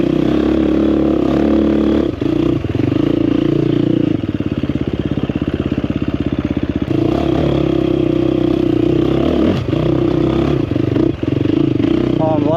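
A 2024 KTM 350XCF Factory Edition dirt bike being ridden, with a loud, steady engine drone and wind rush throughout and a brief rattling pulse partway through, and speech heard over it.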